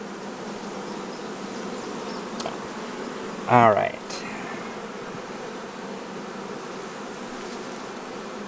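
Honeybees buzzing steadily around open hive frames during a summer hive inspection, a dense continuous hum close by, with a brief spoken word in the middle.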